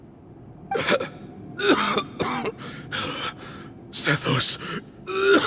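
A male character in Genshin Impact's Cyno story quest coughs and clears his throat in a series of rough, close bursts, interleaved with spoken dialogue.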